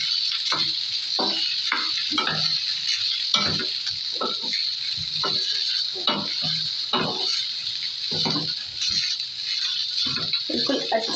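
Leftover rice is stirred into a hot tempering of spices in a pan, with a steady sizzle and repeated scraping and stirring strokes that sound close and fairly loud.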